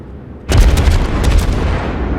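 Heavy cruiser Myoko's main battery fires in World of Warships, a sharp loud salvo onset followed by a string of booming follow-up shots rolling into a sustained rumble.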